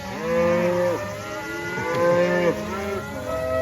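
A large cattle herd on a pasture by a pond dam lowing loudly, several deep overlapping moos rising and falling in succession, close by and with no talk.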